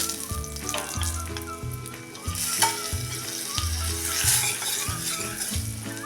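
Spices sizzle and sauté in hot oil with curry leaves in a pan, a steady close crackling fry broken by regular stirring scrapes, alone without talk.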